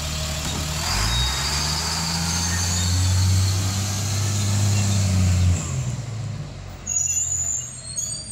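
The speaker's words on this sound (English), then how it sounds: "All right, there goes the bus." A school bus drives off on a foggy morning. Its engine hums low and close, then fades as it pulls away, with a short hiss like an air brake partway through and faint background noise after.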